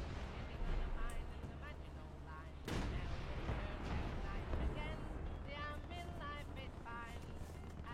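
Heavy .50 caliber machine guns firing in a flight combat video game: a dense, continuous rumble of rapid fire and booming impacts with a sharp burst in the middle, and someone talking over it.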